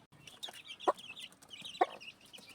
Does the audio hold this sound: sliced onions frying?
no